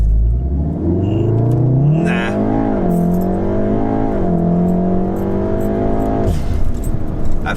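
A Stage 2 Golf R pulls away on a drag race run without launch control. The engine revs up loud and close from the inside, rising steadily through the gears with a brief dip at a shift, then cuts off near the end.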